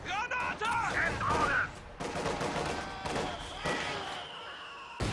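Gunfire in Company of Heroes 2: repeated bursts of shots and heavy bangs crackle through a busy battlefield mix, with brief whistling tones early on and a steady rhythm of impacts.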